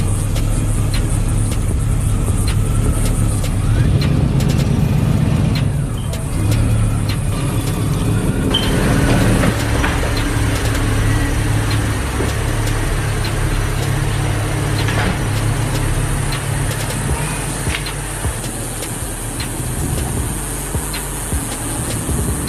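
A tank driving along the Las Vegas Strip gives a steady, loud low engine rumble and rolling drone amid street traffic, continuous and close, with no one talking.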